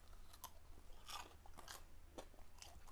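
Several crisp crunches from biting into a battered, air-fried Korean mandu dumpling, close to the mic, a few sharp bites followed by quieter chewing.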